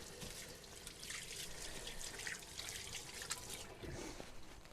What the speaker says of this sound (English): Let me just rinse my hands for a second.